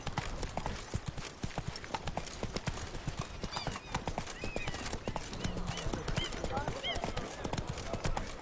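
Roach, the horse in The Witcher 3, runs with fast, close hoofbeats in a steady driving rhythm, loud and continuous, with occasional snorts and game sounds and someone talking over it.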